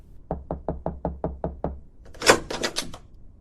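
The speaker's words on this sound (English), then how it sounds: "a soft knock sounded at his office door" A soft series of eight evenly spaced knocks at an office door, close and clear, followed by a brief burst of muffled movement.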